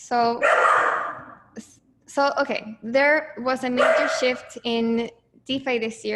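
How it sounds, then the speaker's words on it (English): A pet dog barks and yips repeatedly in loud bursts close by, overlapping someone speaking throughout in an indoor home setting. "excuse my dog"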